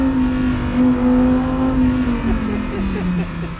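Lamborghini Huracán STO engine revving hard as the car accelerates, a loud rising roar from close range that climbs in pitch and then eases slightly toward the end.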